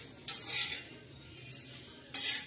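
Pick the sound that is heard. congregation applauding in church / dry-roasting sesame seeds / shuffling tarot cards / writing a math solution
dry-roasting sesame seeds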